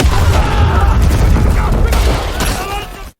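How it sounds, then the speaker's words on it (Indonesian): Film battle scene with heavy gunfire, loud overlapping bursts and booming shots packed together in a dense barrage, fading out at the end. "Yosef CS terus menggempur mereka dengan tembakan"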